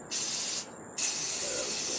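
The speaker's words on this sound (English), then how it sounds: "Take a can, maybe spray, make sure it's spraying smooth." An aerosol spray paint can hisses in two steady bursts separated by a short pause, close and fairly loud, while coating a Harley-Davidson tumbler before hydro dipping.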